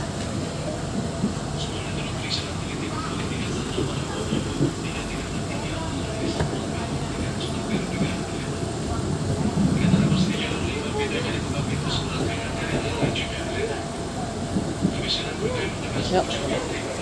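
A KRL commuter train arriving at Rangkasbitung gives a steady rumbling cabin drone with rattles and a mild swell midway, while a voice talks over it.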